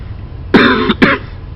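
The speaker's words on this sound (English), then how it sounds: "I've been kind of coughing intermittently." Two quick, harsh coughs close up from smoking hookah, the first longer and the second a short burst, against a quiet background.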